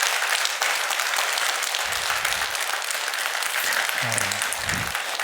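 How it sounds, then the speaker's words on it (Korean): A church congregation claps together in sustained, dense applause that fills the whole stretch. A few brief spoken words break through near the end. "우리 친구들을 위해서 여러분 큰 격려의 박수 한번 해주면 좋겠어요"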